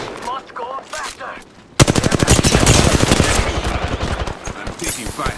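Rapid automatic gunfire in a video game, loud and close, bursting in suddenly after quieter voices and sounds and continuing as a dense stream of shots to the end.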